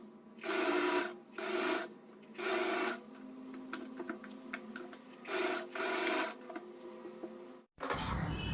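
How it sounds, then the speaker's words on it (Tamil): Silk lining and main fabric stitched together at the neckline on a sewing machine, with five bursts of steady mechanical whirring separated by quieter pauses that carry soft fabric handling. "லைனிங் ஃபேப்ரிக், மெயின் ஃபேப்ரிக் ரெண்டுத்தையும் ஒன்றா சேர்த்து நெக்குக்கு மட்டும் 1/2 இன்ச்சில் ஸ்டிச் பண்ணிக்கலாம்"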